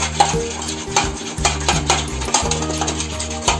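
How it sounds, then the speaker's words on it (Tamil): A spoon stirs paneer biryani mixture in a metal pot, giving repeated close clanks and scrapes in an irregular rhythm, fairly loud, with no talking. "நல்லா கலக்கி விட்டுக்கலாம்."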